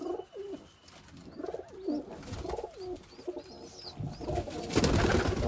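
Newly hatched pigeon chicks and doves coo repeatedly in a soft, rhythmic series at close range, with brief chirps and some rustling and handling noise building toward the end; no one speaks.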